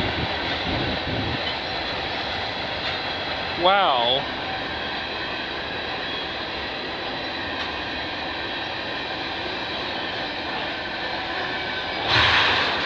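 A CN freight train passes on the Oakville Subdivision at Mile 32, a steady mid-distance rumble running throughout with a brief rising whine midway, and a single short exclamation is spoken.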